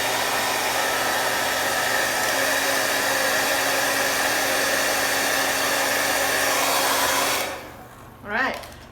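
A hair dryer blows steadily and loudly at close range, drying acrylic paint on a canvas, then switches off near the end, leaving a short faint rustle.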